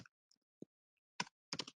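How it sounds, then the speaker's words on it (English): Scattered keystrokes on a computer keyboard as a message is typed, a few sparse isolated clicks followed by a quick cluster of taps, close and fairly quiet, with no talk. "And I can type my message."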